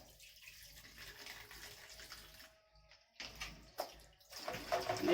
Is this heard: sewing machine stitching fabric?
no